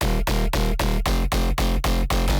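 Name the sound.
synth mid bass with distortion and OTT effects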